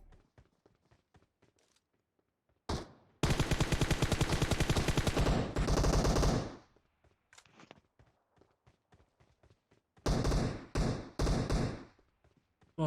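Video game gunfire arrives in dense automatic bursts, one long rattling volley and then several shorter clustered ones, loud and close, with quiet gaps and faint clicks between them.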